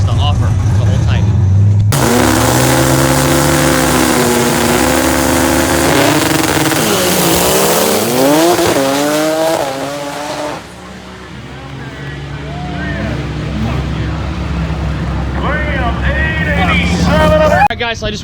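A diesel drag truck roars hard down a quarter-mile drag strip, its engine note climbing through long rising sweeps as it accelerates, loud and close, then easing off into a lower rumble near the end.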